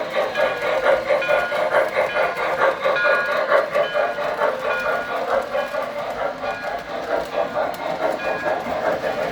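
Model trains, a diesel and a handcar, run on a track at Christmas with a steady rhythmic clatter of wheels, nearby and fairly loud, and sustained tonal notes layered over the running sound.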